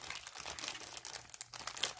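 Scissors snip and slice open a plastic bag of rock-painting supplies, giving a close, continuous crinkling and tearing rustle with a few sharper crunches, no talking.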